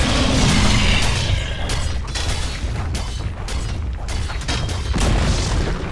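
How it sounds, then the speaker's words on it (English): Dota 2 tower destruction in a full match, a loud continuous rumble of crumbling and booming impacts with bursts and crackles of battle effects, dense and sustained throughout. "Dire's middle tower has fallen."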